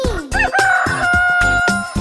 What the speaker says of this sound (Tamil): கொக்கரக்க கோழி விடிஞ்சாச்சு எழுநீ